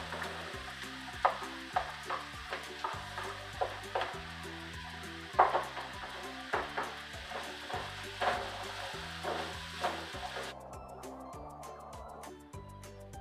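Zucchini frying in a pan with eggs and peppers, a soft crackling sizzle under rhythmic scrapes and taps of a utensil stirring, with a quieter, smoother frying hiss near the end.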